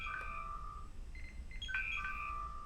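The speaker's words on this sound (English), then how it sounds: "that Star Trek sound is actually my phone ringing" A phone ringtone styled after a Star Trek sound: bright electronic beeps and tonal chirps in a short melodic pattern, fairly faint over a low background hum, with no talking.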